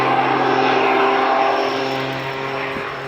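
A propeller-driven aerobatic aircraft at the Duxford airshow drones loudly overhead in a steady engine roar that fades slightly as it passes.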